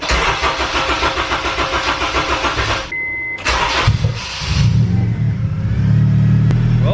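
A Honda Civic EP3 with a swapped-in K24 engine cranks with a rapid starter chatter, pauses, then fires up and settles into a loud, close idle that grows stronger toward the end.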